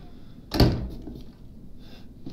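A door closes with a single heavy thunk in Resident Evil 7, close and solid, followed by a low hum of game ambience.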